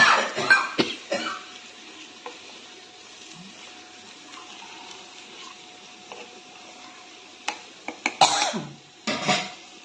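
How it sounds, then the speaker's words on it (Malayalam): Someone coughs and clears their throat from chili fumes while cooking coconut-milk sardine curry at home, a cluster of harsh coughs at the start and again near the end, separated by a quiet stretch with faint kitchen sounds. "മുളകിൻ്റെ എരി കൊണ്ട് ചുമയ്ക്കുന്നുണ്ട്."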